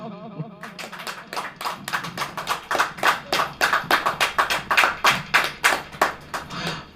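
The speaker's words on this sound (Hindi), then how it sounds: "ताली बजाओ।" A church congregation claps in unison in a steady, even rhythm of sharp, close hand claps, with a voice heard briefly before the claps begin.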